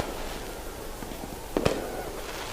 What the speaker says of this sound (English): We have fireworks going off in the north end zone